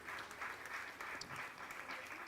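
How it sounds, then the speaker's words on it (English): A crowd at a market-closing bell ceremony applauds in a steady, even wash of clapping, faint and distant throughout. "let's give ourselves a round of applause"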